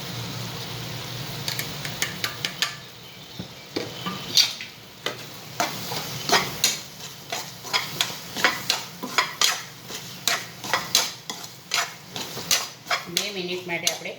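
Kalakand mixture cooks with half a spoon of ghee in a pan. A spoon stirs and scrapes it in repeated sharp strokes over a low sizzle, fairly close and loud.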